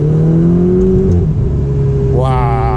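A Ferrari 488 Spider's engine drones steadily from the cockpit, then flares sharply in a rising rev blip on a downshift toward the end, loud and close, with a voice speaking over it.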